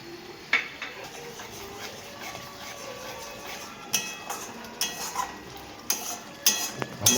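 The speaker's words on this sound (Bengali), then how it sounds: "আস্তে আস্তে করে নেড়ে যেতে হবে।" A spoon stirs fried spices, greens and vegetables for a potato-cauliflower curry in a pan, giving soft scraping with sharp intermittent clinks against the metal, close up and growing busier toward the end.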